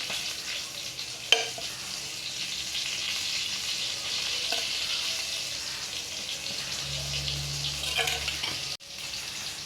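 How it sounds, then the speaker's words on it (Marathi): Oil heats in a kadhai on a gas stove, giving a soft, continuous sizzle with a faint hiss throughout, broken by a couple of small clicks and a brief clatter near the end. "गॅसवर कढई ठेवून त्यामध्ये दोन तीन चमचे तेल टाकून घ्यावे"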